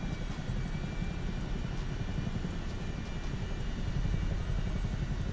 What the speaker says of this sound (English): insane work from the Chinook.